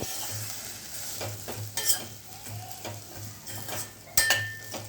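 Wild foraged mushroom pieces fry in a pan, a continuous sizzle punctuated by sharp spatula scrapes and clinks as they are stirred, loudest at a few quick strokes.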